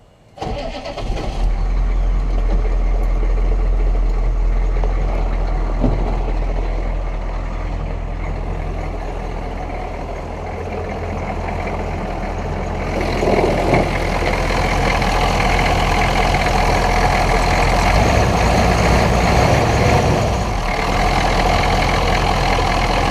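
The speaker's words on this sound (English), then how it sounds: "I'm gonna give the truck a start so you can hear how she sounds." A 1986 Chevy K20 pickup's 6.2 diesel engine cranks, catches and settles into a loud, steady idle that rumbles on with slight revs along the way.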